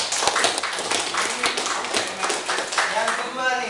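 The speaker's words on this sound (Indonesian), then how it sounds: "Oke, mantap, kasih tepuk tangan." A classroom of students claps on cue for a classmate's answer, a dense ongoing patter of handclaps mixed with chatter and room noise throughout.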